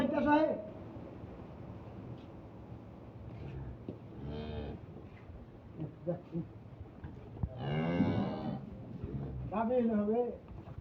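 A dairy cow on a Dinajpur farm moos loudly several times after her calf is let loose, deep drawn-out calls spaced across the scene with people talking nearby.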